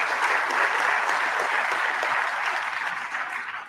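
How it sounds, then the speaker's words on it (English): An audience at a South African election results announcement breaks into sustained applause, a dense, steady wash of many clapping hands that tapers slightly toward the end. "And we applaud you,"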